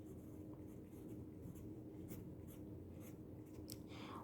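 Pen or pencil scratching on paper while a math exercise is written out, a soft continuous scratchy stroke sound with brief sharper marks, close and quiet, no voices.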